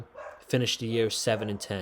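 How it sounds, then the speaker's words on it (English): Dogs bark and yip somewhere behind someone talking about football, the barks short and scattered and mostly buried under his steady voice. "I'm sorry if you can hear my dogs barking in the background"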